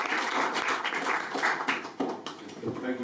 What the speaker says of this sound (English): Warm round of applause for Dan Mulhall.